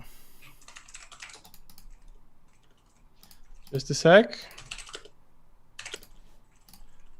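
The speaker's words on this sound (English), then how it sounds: "How loud is my keyboard?" Soft keyboard typing clicks run through the clip beneath quiet talk, with a brief spoken phrase in the middle.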